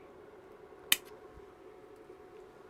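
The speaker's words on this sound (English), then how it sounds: "just take that, snip one side there, snip one side there" Scissors give a single sharp snip while trimming material on a Macintosh SE/30 repair job, a short crisp cut close by over a quiet room hum with no talk.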